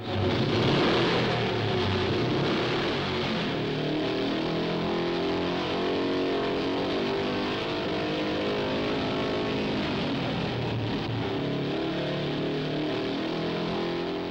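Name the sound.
AJS and Norton single-cylinder motorcycle engines running on test brake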